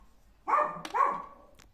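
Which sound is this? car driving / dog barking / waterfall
dog barking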